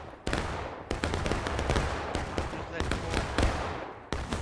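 Musket fire crackles through a Civil War-era battle in the video game War of Rights. Sharp volleys and single shots are loud and near, some following close on one another, mixed with distant pops and voices.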